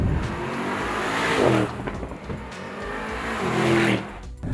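A Mercedes-AMG SL 55 engine growls and revs hard, rising and falling with a throaty roar and a brief tire squeal, close and loud.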